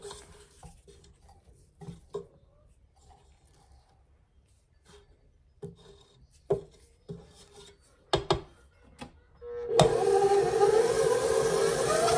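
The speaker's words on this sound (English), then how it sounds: "I'm going to stop the mixer and just scrape everything down again." Spatula scraping cookie dough down the sides of a stand mixer bowl, heard as scattered scrapes and knocks at close range, then a steady loud whir as the mixer starts again near the end.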